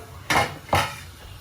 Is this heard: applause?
no